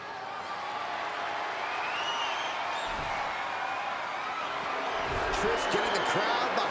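A virtual arena crowd in the WWE 2K25 video game cheers during a cage match, a broad steady roar with a commentator talking over it and a couple of sharp impacts.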